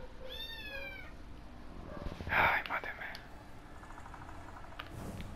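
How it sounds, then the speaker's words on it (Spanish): A pet cat meows once at the start, followed by soft whispered speech and a brief burst of close noise, all at low volume. "Y mi gato está llorando."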